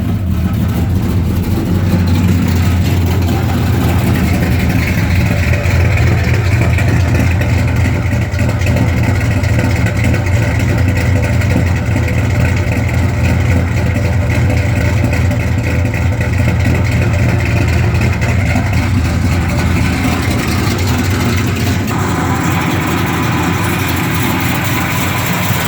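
A 1969 Dodge Coronet Super Bee engine runs close by with an exhaust leak at the headers, a loud, steady low rumble that holds throughout with a slight ticking texture.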